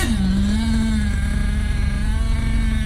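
Nitro engine of an OFNA Ravenger 9.5 RC buggy running close by, a loud, steady, buzzy drone that dips slightly in pitch early on, then holds an even idle.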